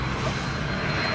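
An airplane passes overhead with a steady, loud engine roar that fills the short stretch evenly, with no talking.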